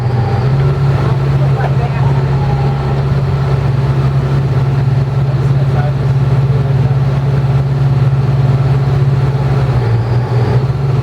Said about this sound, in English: You can hear that engine screaming.